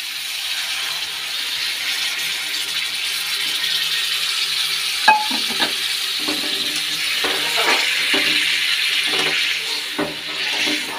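Hot water is poured into a pan of cooked spice mixture, giving a steady close hiss and rushing pour, followed by scattered clinks and bubbling sizzle. No one speaks.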